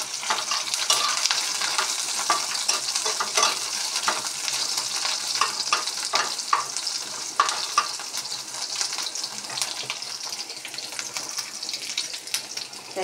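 Onions frying in a pan with garlic, chili and bay leaves, giving a continuous close sizzle broken by frequent scraping stirs and small clatters, with no voices.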